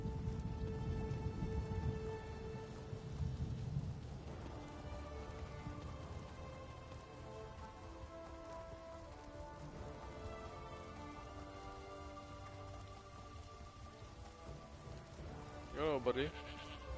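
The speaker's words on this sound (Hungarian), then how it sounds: "És még mindig esik az eső." Steady patter of rain in The Elder Scrolls Online, soft and continuous throughout, with faint tonal game sounds layered over it and a short warbling effect near the end.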